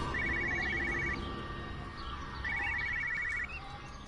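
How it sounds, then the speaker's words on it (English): Cell phone ringing, two bursts of rapid trilling electronic warble about a second long each with a pause between, set against a busy noisy background. "Cell phone."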